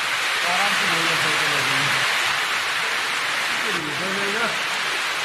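A heavy downpour roars as a steady, loud wash of rain while voices talk over it.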